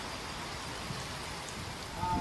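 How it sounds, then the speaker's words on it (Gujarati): Heavy monsoon rain pours over Bhilabildi village in Saurashtra, an even, continuous hiss of falling water that stays steady and moderately soft throughout, with no voices. "ભીલાબીલડી ગામમાં ધોધમાર વરસાદ વરસ્યો."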